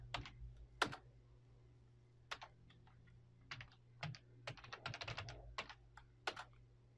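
A Windows 10 login password typed on a computer keyboard: scattered single key clicks, then a faster burst of taps, close and quiet, with no voices.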